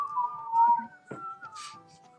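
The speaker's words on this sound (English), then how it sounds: "we're whistling while we're doing that" A person whistles a short, wavering tune, fairly close, with a brief burst of noise midway and faint background sounds.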